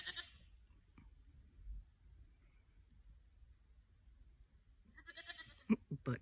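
Goats bleat in a quiet outdoor pen, one wavering call at the start and then a louder cluster of bleats near the end, with near silence in between.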